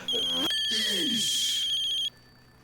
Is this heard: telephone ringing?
yes